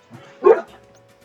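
A single short, close dog bark with a faint yip before it, loud and alone over a quiet background.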